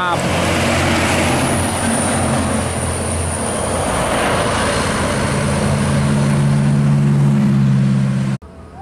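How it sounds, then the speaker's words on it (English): A convoy of trailer trucks drives past on a road, giving a steady, loud engine and tire roar that holds throughout with a low droning tone building toward the end, then cuts off abruptly. "Konvoy truk trailer."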